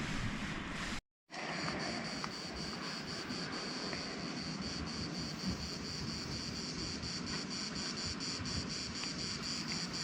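Wind gusts across a rocky shore at night, a steady, rushing broadband roar with a faint underlying hum, continuous and fairly quiet, with no voices.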